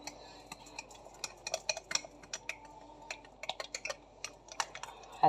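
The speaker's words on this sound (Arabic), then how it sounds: "هتقلبها كويس." Pizza dough mixture of flour with warm water or milk stirred in a bowl, giving a run of quick, irregular scraping and clinking taps at close range with no talk.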